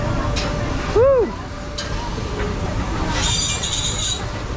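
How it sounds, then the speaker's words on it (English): The Nilgiri Mountain steam toy train near Ooty rolls along with a low rumble and a sharp, swooping wheel squeal around the first second, followed by a brighter hiss later on. "Yeah, our steam engine toy train is moving."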